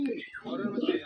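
Rajshahi giribaz pigeons coo softly inside an old home pigeon loft, a steady low rolling murmur lasting about a second, close by.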